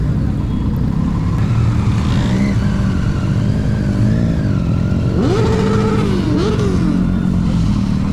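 Superbike engines rev loudly nearby at India Bike Week, rising and falling in pitch over a constant rumbling drone, with no talking.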